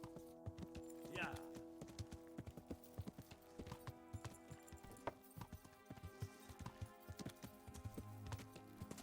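Horse hooves clip-clop at a steady gallop in Kingdom Come: Deliverance, a busy, rhythmic patter mixed with game sounds and a voice talking over it.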